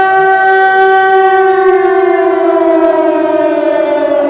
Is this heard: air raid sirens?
yes